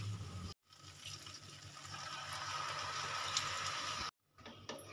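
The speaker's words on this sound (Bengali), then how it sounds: "এবার আমি দিয়ে দেব পরিমাণ মতন জল।" Water is poured steadily into a cooking pot for veg pulao with 500 g of rice, about 1.5 litres in all: a close, continuous rushing stream lasting a few seconds between brief pauses, with no talking.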